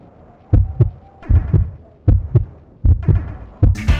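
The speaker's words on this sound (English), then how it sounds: "when you do a combination crux, you have two of the heartbeats slightly off from each other" Overlapping heartbeats in the video game Solo Joe, two lub-dub pulses slightly out of sync, thumping loud and close in a steady repeating rhythm, with a brief hissy burst at the end.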